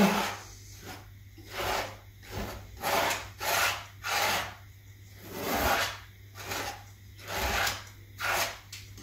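A painting knife spreads thick paint across canvas in repeated horizontal strokes, each a close, soft scraping swish, about a dozen in a regular rhythm with short pauses between them.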